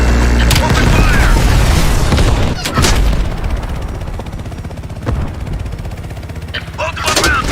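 Heavy gunfire and explosions erupt in the shooter Call of Duty: Black Ops Cold War, with a loud, rumbling boom, sharp shots and continuous battle noise, and voices shouting over the combat.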